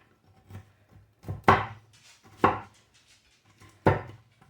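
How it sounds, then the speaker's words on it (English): A knife chops a cup of pecans on a cutting board for a Waldorf salad, several sharp, close thwacks at uneven intervals with softer taps between them, alone without speech. "I'm going to add a cup of pecans. I'm going to chop those up a little bit too."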